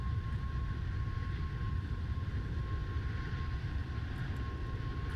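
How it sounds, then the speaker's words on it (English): Airliner taking off nearby in the Roblox flight game Flightline, a steady broad engine roar with low rumble and a faint steady whine, continuous and even throughout with no talking. "There's an airplane taking off right there, right ahead of me."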